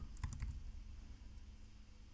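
Typing on a computer keyboard while entering a search in a code editor: a quick cluster of soft key clicks near the start, then faint hum for the rest, very quiet overall.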